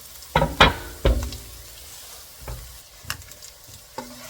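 Chicken and vegetables being stir-fried in a pan on a stove: a few loud scraping knocks of the utensil against the pan, then quieter taps and a faint sizzle, close and with no talking.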